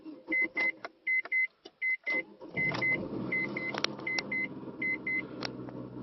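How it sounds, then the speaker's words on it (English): A Mazda MX6 starting up: a series of evenly spaced electronic warning chimes, then the engine catches and settles into a steady idle rumble while the chimes keep beeping over it. "here we are starting up the car last time."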